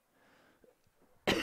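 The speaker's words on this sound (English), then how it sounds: "didn't mean to cough to my mic there." A single sharp cough, close and loud, hits a broadcast microphone at a high school baseball game, bursting out abruptly after a moment of near silence.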